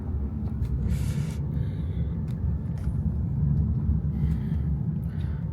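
Interior of a BYD car while driving, with a steady low rumble of road and engine noise throughout and faint brief higher rustles above it.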